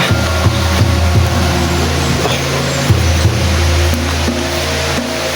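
A flowing stream makes a loud, steady rushing roar close by, with a low hum underneath and no clear breaks.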